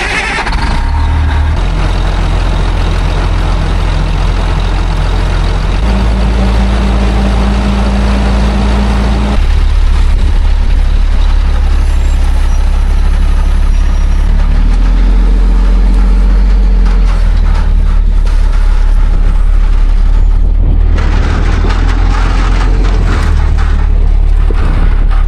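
A fully loaded 18-wheeler semi truck rumbling through a canyon, its heavy engine droning loudly and steadily up close, with shifting engine tones and a hiss like an air brake.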